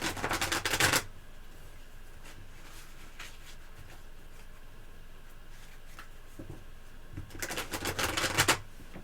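Two bursts of tarot cards being riffle-shuffled, one at the start and one near the end, with quiet room tone in between.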